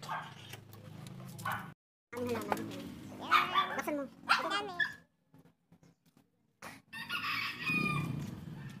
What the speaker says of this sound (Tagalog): Yan, aso namin.